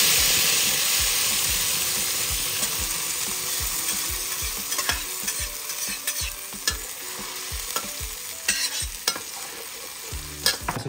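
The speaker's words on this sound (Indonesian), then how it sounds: "sekarang saya mau masukin semua bumbunya" Ground spice paste, including ground chilli, sautés in hot oil with a loud, close, continuous sizzle and hiss, while a spoon scrapes and stirs in frequent sharp clicks that grow stronger toward the end.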